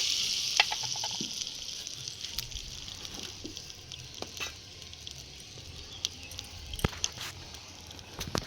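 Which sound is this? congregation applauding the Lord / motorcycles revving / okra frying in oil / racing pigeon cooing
okra frying in oil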